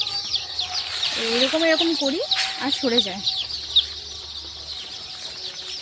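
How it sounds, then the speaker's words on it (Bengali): Chickens clucking and squawking nearby as they are shooed away with a stick while being guarded at night, with a few sharp calls amid someone talking. "জাদু কি ছড়ি দিয়ে আমি বারবার মুরগিগুলোকে তাড়াই এইভাবে"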